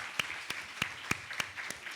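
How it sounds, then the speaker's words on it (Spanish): Scattered applause from a small audience at a literary tribute event, a few distinct claps standing out over a soft, steady patter of hands, moderately quiet and without voices. "otro aplauso"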